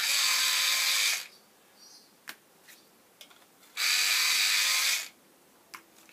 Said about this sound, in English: Sharpen these up a little bit.